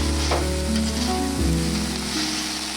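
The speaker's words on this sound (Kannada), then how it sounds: "ಇದೆಲ್ಲ ಬೆಳ್ಳುತ್ತೆ ಇದೆಲ್ಲ ನೀಟಾಗಿ ಚೆನ್ನಾಗಿ ಫ್ರೈ ಮಾಡ್ಕೋಬೇಕು" Garlic fries in oil with a constant, loud, close sizzle and some stirring, with no voices over it.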